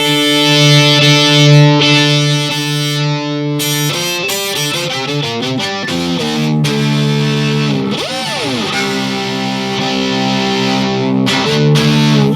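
An electric violin plays sustained and sliding notes through an overdriven amp IR pedal, a gritty tone, loud and buzzing, with no voices.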